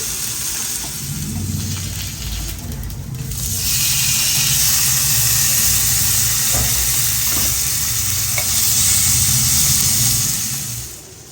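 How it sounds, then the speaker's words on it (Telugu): Fish frying in a pan, a loud, steady close-up sizzle that swells stronger midway and holds, with a few soft knocks underneath. "ఇప్పుడు ఫిష్ ఫ్రై చేసేస్తున్నాను"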